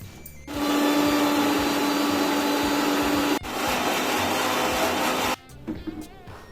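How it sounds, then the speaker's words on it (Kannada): A mixer grinder blending spice paste with curd in its jar, a loud steady whirring drone that cuts out briefly and restarts, then stops, leaving faint rattling as the blades wind down. "ಸೊ ಇದನ್ನು ಮಿಕ್ಸಿ ಜಾರ್ಗೆ ಹಾಕಿ 1-2 ಸ್ಪೂನ್ ಮೊಸರು ಹಾಕ್ಕೊಂಡು ಆಮೇಲೆ ಅದು ಪೇಸ್ಟ್ ಆಗೋವರೆಗೆ ಗ್ರೈಂಡ್ ಮಾಡ್ಕೊಳ್ಳಿ"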